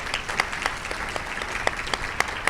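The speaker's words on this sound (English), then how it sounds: "let's give our new faculty another round of applause" An audience applauds new faculty at a campus State of the Campus address. Steady applause fills the room, with crisp individual claps standing out throughout.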